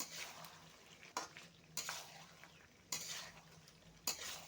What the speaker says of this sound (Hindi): अभी और एक बार अच्छे से मैं मिक्स कर लेंगे